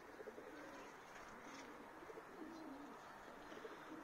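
Racing pigeons, breeding birds, perched on a loft roof, cooing softly in a few low repeated calls over steady outdoor background noise.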